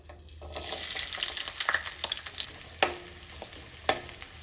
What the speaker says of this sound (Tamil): சின்ன வெங்காயத்தை போட்டு வதக்கி எடுத்துக்கலாம்.